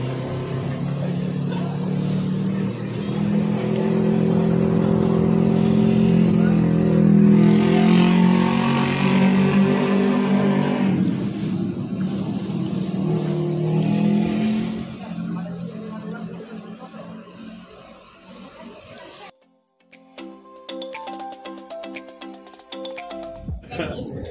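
Sinar Muda luxury suites bus engine rumbling while driving on a mountain road trip, a loud steady drone for most of the stretch that fades near the end, with talking and a brief tonal electronic sound late.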